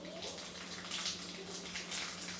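Mustard seeds sizzle in hot oil for a tadka. A soft, steady hiss and crackle sits close and low in level, with no talk over it.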